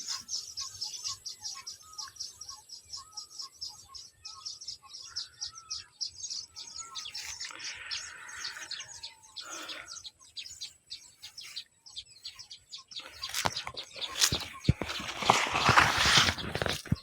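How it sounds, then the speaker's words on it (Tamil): Many sparrows chirping and flitting around coconut trees outdoors, with a dense stream of rapid high twitters throughout and a brief rustle midway, growing busier and louder toward the end. "எவ்வளோ குருவி பறகுது பாருங்கள்."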